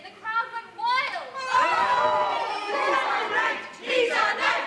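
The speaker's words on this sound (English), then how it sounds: "Just at that moment, St. George appeared and the crowd went wild." A crowd of children shouting and cheering wildly at a live show in a library, a loud, continuous mass of excited young voices rising and falling in bursts.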